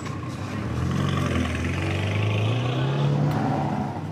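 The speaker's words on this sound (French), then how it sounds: "la piste devient un lieu de spectacle, avec son défilé de voitures de luxe" Luxury cars parading along the Monaco street circuit, a steady loud engine drone with rising pitch as they accelerate past, continuous throughout.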